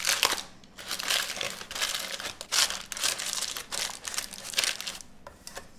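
Parchment paper crinkles and crumples as it is pressed into a cheesecake pan, close bursts of crackling rustle that rise and fall in uneven waves, no voices.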